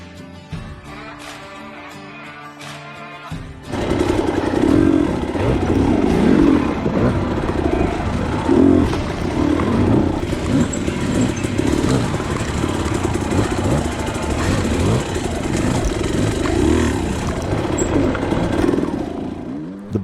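Engine of a 2021 Beta 200RR, a 200cc two-stroke dirt bike, being ridden: after a quiet opening, a loud, steady revving drone with rising and falling throttle pulls continues throughout.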